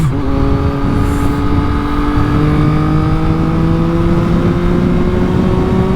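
A car engine revving hard in the morning, a loud, steady roar with a slowly rising tone held close and continuous, no talk over it.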